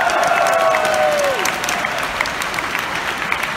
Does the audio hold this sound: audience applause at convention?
yes